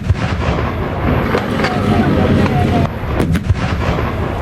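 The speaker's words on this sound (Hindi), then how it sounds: "लद्दाख में गरजे भारत के टैंक" Indian army tanks fire in Ladakh, producing heavy, loud booming blasts over a constant rumbling roar, with a few sharper cracks near the end.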